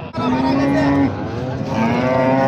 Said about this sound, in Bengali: এখানে আরও একটি গাভী দেখতে পাচ্ছি।